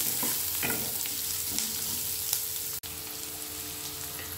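Steady close sizzle of white sauce pasta base with bell pepper frying in a pan, with soft scraping stirs and clicks of a spatula throughout, no talking.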